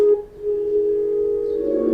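A sustained synth tone hums steadily through a Space Designer reverb in Logic Pro X, swelling slightly toward the end with a washy, spacious reverb tail.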